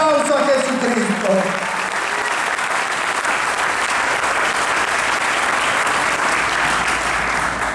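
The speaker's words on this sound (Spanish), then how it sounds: "Alguien dele su mejor aplauso a Jesucristo." A church congregation claps steadily for several seconds, a broad, sustained wash of applause that begins over a fading voice and continues evenly to the end.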